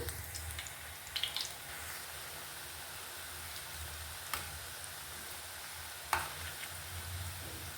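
Janthikalu (murukku) dough frying in hot oil in a kadai gives a steady, even sizzling hiss throughout, with a couple of brief sharper pops and no talk.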